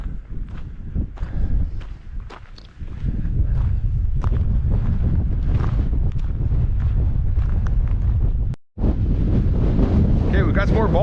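Strong wind buffets the microphone on an open hiking trail, a continuous loud roar with gusty swells and a brief dropout near the end.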